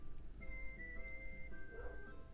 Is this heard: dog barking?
yes